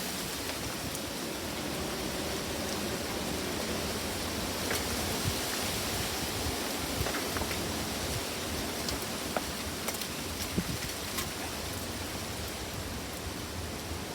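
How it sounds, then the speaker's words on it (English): Strong wind during a dust storm sweeping across a central California valley as a front arrives: a steady, broad roaring rush with occasional gusty bumps, continuous and enveloping, no talking. "the wind blows across the valley when a big front comes in"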